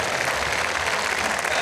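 A crowd at Bislett stadium in Oslo claps for an athlete at a Diamond League athletics meet, a dense, steady wash of applause heard through the whole moment.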